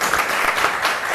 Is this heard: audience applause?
yes